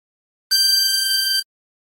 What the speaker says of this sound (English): Blowing into 15, G.